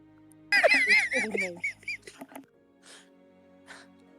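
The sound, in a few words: player imitating a goose honking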